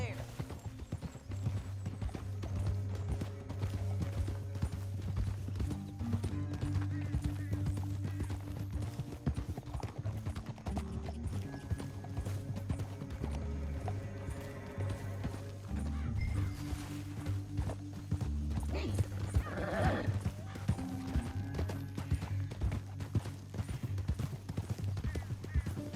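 Horses gallop through a canyon in the Western game Red Dead Redemption, with steady rhythmic hoof clip-clop, an occasional whinny and a music score underneath, while characters talk at times.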